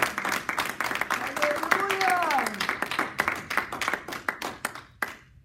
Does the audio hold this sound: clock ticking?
no